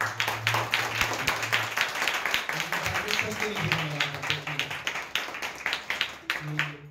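Church congregation clapping after worship, a dense patter of many hands with steady rhythmic claps, while a sustained instrumental tone and voices sit underneath.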